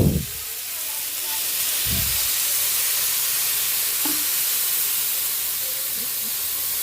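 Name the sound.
broth poured into sautéed ground meat in a hot pan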